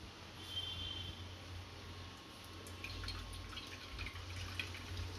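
Water trickles and drips steadily at a low level as it is squeezed from soaked bread slices, with faint splashy patter picking up in the second half.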